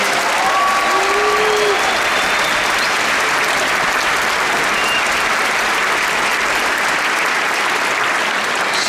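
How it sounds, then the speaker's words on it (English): A large audience at a TubaChristmas concert in Kansas City breaks into loud, sustained applause, dense steady clapping filling the hall from start to finish with a few faint whistles early on. "One massive round of applause for Stephanie."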